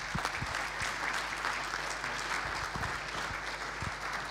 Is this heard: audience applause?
yes